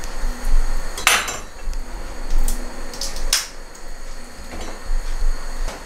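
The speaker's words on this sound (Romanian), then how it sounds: "O să tăiem pulpuța în două." A knife chopping through a chicken leg on a cutting board, sharp knocks landing at irregular intervals against a faint kitchen background, with no voices.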